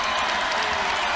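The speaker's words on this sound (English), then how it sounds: "Crowd on their feet." A basketball arena crowd at a women's college game between Indiana and Michigan State in Bloomington cheers and applauds loudly on its feet after a tying basket, in a dense, continuous roar with no pauses.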